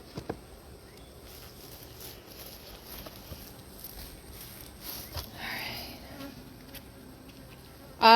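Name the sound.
honey bees buzzing around hive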